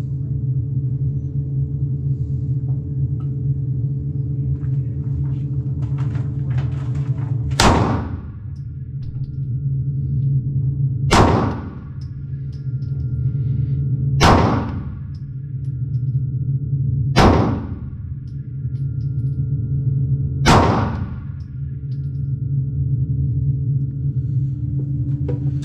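Five sharp, loud pistol shots from a Ruger Security 9 Compact fitted with a red dot, fired at a target at steady intervals of about three seconds over a low background rumble.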